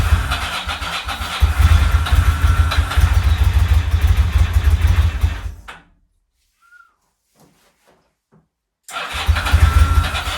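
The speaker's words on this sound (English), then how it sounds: "And then I started spraying while cranking the bike over." An old Ducati motorcycle engine, revived after sitting five years, cranks and catches while sprayed with starting fluid, running loud and rough before cutting out into silence, then roaring back to life.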